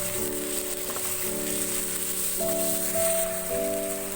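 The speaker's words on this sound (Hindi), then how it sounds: "चिकन को थोड़ा सा फ्राई करेंगे।" Chicken frying in oil after softened onions, giving a steady sizzling hiss close by, with faint tonal hum running underneath throughout and no talking.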